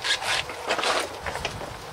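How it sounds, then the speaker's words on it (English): A plastic bumper cover is pulled off a Volkswagen Cabrio, making close rubbing, scraping, and creaking sounds in short uneven bursts. "And that is a Volkswagen Cabrio bumper cover removed"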